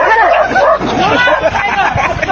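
Several dogs bark and yip loudly and continuously together, with a busy, crowded mix of overlapping voices and barks close by.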